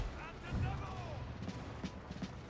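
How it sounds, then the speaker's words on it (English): Artillery shells fire and boom in a strategy video game as troops hold a hill, rumbling low under steady battle noise with a few sharper reports and a voice talking throughout. "Artillery continued to support the troops on the hill"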